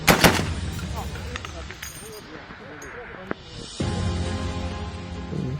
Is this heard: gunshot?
yes